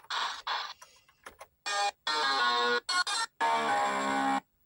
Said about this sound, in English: Great guitar sound.